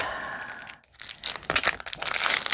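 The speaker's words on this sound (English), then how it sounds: "some plastic bags, reclosable bags." Plastic reclosable bags from a Dollar Tree crinkle and rustle close up, with a short pause and then louder bursts of crumpling and crackling handling.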